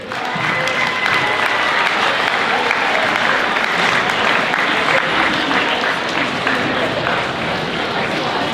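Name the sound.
audience applause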